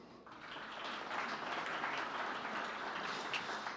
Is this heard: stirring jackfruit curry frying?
no